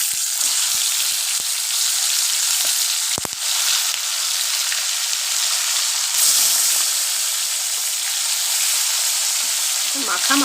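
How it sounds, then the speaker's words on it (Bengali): Chicken pieces sizzling in hot oil with black cardamom, green cardamom and cinnamon, a loud continuous frying hiss with a few sharp crackles and spatters throughout. "চিকেনটা আমি তুলে দেব।"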